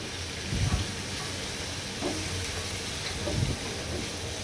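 Chili and turmeric powder fry with cumin paste in a pan for a katla fish dopiaza, giving a soft steady sizzle with three brief stirring scrapes spread across a few seconds.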